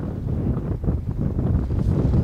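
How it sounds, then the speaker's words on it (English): Strong wind buffets the microphone outdoors on a mound beside an airport, a steady low rumbling roar throughout with gusty surges and no talking. "it's so breezy"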